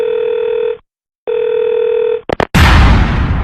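A landline telephone in a police office gives a steady dial tone that breaks off and resumes, followed by a few quick dialing clicks and a loud burst of line noise, heard up close.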